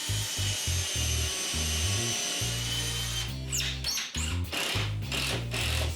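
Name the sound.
screw being driven into a wooden curtain cornice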